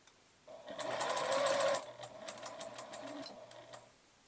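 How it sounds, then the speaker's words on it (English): A sewing machine stitches a scrunchie from scarf fabric, running in a fast, loud burst that then slows to a steadier, quieter whirring for a few seconds, with a soft voice faintly beneath. "I'm going to sew just a little bit more. It's probably good, and backstitch."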